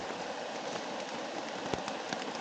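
Steady rain drumming on a tarp shelter at a backpacking camp in a wet Tennessee forest, a dense even hiss with a few louder drips, close and continuous, no voices.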